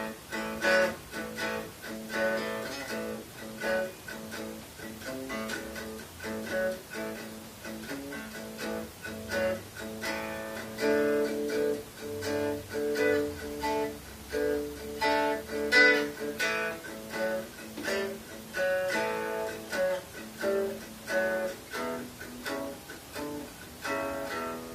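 A Leser 335-style electric guitar, played unplugged, runs a standard blues lick as a continuous stream of plucked notes and bends, thin and fairly quiet, with no talking throughout.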